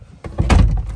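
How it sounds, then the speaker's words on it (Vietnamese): A car door swinging shut on a car made over with a supercar-style body kit, one solid close thunk followed by a short dull rattle, heard close up and alone. "em đóng cửa lại."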